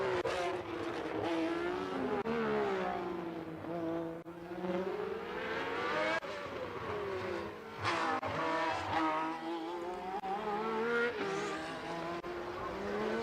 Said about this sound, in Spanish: Sonido diferente el que tenía la Ferrari, muy diferente al que había tenido hasta el año 80, donde utilizaban los motores aspirados